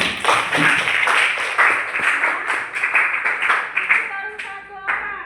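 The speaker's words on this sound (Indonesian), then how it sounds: "Tepuk tangan." Hands clapping together in a classroom, a steady run of claps lasting several seconds before tapering off into a few scattered final claps.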